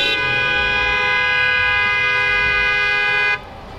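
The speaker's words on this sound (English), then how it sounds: "Everybody's honking like crazy." Sustained car horn blaring loudly and steadily in California street traffic for over three seconds, a harmonic toot that cuts off abruptly near the end, with road noise beneath.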